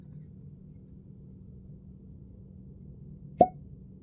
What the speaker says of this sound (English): Nice pop cork. Cork pop, should I say?